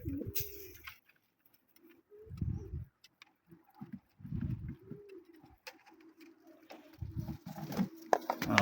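Pigeons kept as pets coo outdoors in several low, rounded bursts separated by quiet gaps, close by and fairly clear with no talking.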